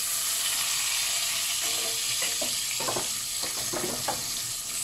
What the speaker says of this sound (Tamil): சேர்த்துட்டு ரெண்டையுமே கொஞ்சம் நல்லா வதக்கி